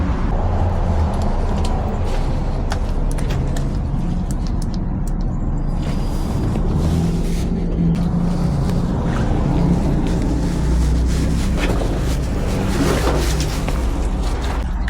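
Steady traffic circling a busy roundabout in a town centre, a continuous low rumble of engines and tyres with passing vehicles swelling and fading, no voices.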